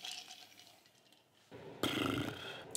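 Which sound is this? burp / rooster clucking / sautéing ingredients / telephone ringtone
burp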